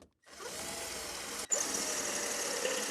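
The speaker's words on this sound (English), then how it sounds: "So I'm going to go ahead and use a step drill bit." A power drill with a step drill bit whirs steadily, briefly cutting out and then starting up again, close and continuous with no voices.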